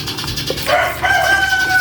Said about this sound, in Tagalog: Anda na naman po yung mga ibon kumakanta.